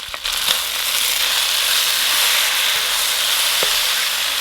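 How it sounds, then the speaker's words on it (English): Sliced peppers are added to a chicken and eggplant stir fry, setting off a loud, steady close-up sizzle with a few light stirring clicks and no talking. "And then we're going to add in the sliced peppers."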